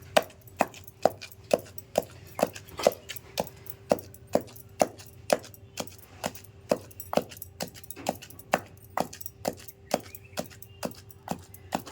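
Indian gooseberry chutney is pounded in a stone mortar in a steady run of crisp, close thuds, about two strikes per second, continuing evenly without any talk.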